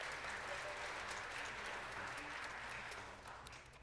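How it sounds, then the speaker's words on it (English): Applause at a spring jazz band concert for the featured drum set player, a dense continuous wash of clapping from the audience, fairly soft and steady before tapering off near the end. "please give him a round of applause"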